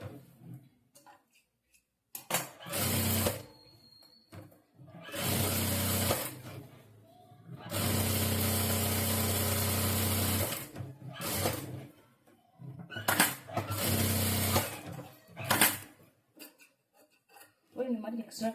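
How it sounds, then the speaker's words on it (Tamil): A sewing machine stitches around the lining of a saree blouse in several sustained runs of steady mechanical whirring, each lasting a few seconds, separated by quiet gaps with handling noises. "இதை சுற்றி இந்த மாதிரி தையல் போட்டு ஃபினிஷ் பண்ணிக்கோங்க."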